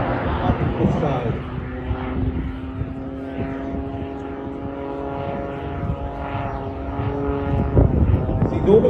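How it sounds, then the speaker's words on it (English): Propeller-driven aerobatic plane climbing in a rising corkscrew at an air show, a steady droning engine with sustained harmonic tones holding throughout and swelling slightly near the end, with voices talking over it. "when you turn an aircraft, you're losing speed all the time, but he's actually accelerating as he's going up"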